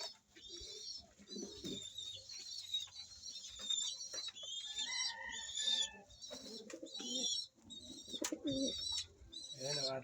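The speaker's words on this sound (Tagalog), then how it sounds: "Ayan ang ating ibon na si Dilaw saka si Luis." Pigeons coo repeatedly throughout, mixed with chirping bird calls and occasional soft voices in the background.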